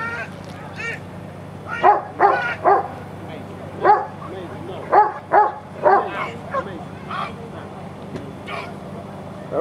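A dog barks repeatedly at a protection dog tournament, a series of loud, close barks in bursts with short pauses, while people talk nearby.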